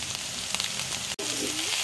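Ginger garlic paste hitting hot oil in a pan with fried spices, a steady loud close sizzle throughout with a brief dip, no talking over it.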